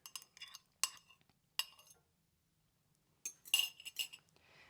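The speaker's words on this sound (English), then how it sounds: "you're going to stir that together to make sure everything is all mixed together" A spoon clinks and scrapes in a dish while stirring egg mixture into spinach for a green egg bake, giving several separate bursts of light metallic clinking with quiet gaps between them, close and fairly soft.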